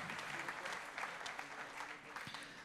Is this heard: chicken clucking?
no